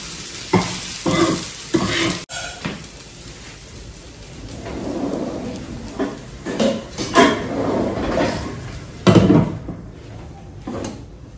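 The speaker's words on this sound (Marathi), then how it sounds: "आता कमी गॅस करून मस्त शिजू देणार." Sabudana cooks in a pot on low gas, giving a bubbling, sizzling simmer with intermittent stirring scrapes and clatters over an electrical hum.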